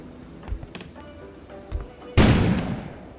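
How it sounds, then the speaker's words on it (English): A sudden loud explosive blast erupts after a few dull thuds in the video game Kona, then its rumbling roar slowly fades away. "An explosion suddenly occurred outside."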